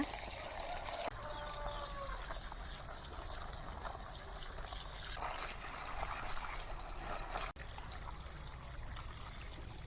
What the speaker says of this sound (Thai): เราก็จะนำไหลของต้น ถุงเงินถุงทองนะคะ มาล้างให้สะอาดเลยค่ะ ล้างดินออกให้หมดเลยนะคะ